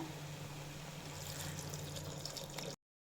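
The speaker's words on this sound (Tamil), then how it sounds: "இப்போது குழம்புக்கு தேவையான அளவுக்கு தண்ணி ஊற்றிக்கலாம்." Water poured into a cooking pot while making bottle gourd kuzhambu, a steady, close, continuous splashing stream for under three seconds before it stops abruptly.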